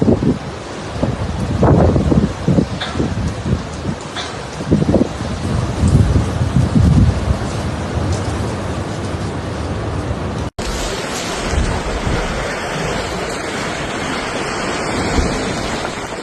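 Storm winds around 150 km/h roar across the southern Italian coast as monster waves crash and surge, a loud, continuous rumbling wash with bursts of breaking surf, shifting abruptly partway to a steadier gusting roar.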